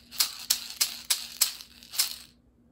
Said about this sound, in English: So I'll say it first and shake the rhythm